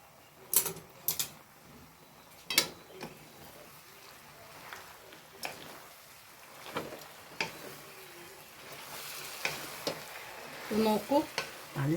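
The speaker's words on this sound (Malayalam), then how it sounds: "ഇത് നല്ലോണം ഒന്ന് ഇളക്കി കൊടുക്കാം കേട്ടോ" Jackfruit biryani with mint and coriander leaves is stirred in a pan, giving soft, intermittent scraping and clicking strokes over a faint, quiet background.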